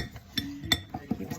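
A spoon clinks and scrapes against a mug while stirring chocolate chip cookie batter for a microwave cookie, giving several quick, close taps in an uneven rhythm with no talking.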